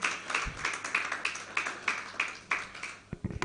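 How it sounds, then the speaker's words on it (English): Sparse, uneven clapping from a small audience at a managing partners' roundtable, a few distinct claps in loose rhythm fading out near the end, with no voices over it. "A round of applause for Dr. Gabriel Onogurua,"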